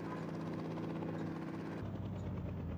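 A helicopter in the Indian Bike 3D video game drones steadily, a loud continuous buzzing rotor and engine hum with a brief shift in tone partway through.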